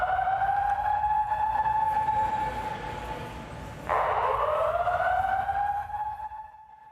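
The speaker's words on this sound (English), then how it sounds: "that is the sound of the alarm inside of the Kentucky Expo Center today" Building alarm sounding inside the Kentucky Expo Center during a crowd evacuation, a loud wailing electronic tone that falls away, then restarts with a sharp rising sweep, steady and echoing over a low crowd murmur.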